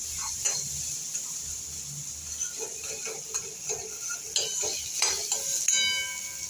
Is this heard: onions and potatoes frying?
yes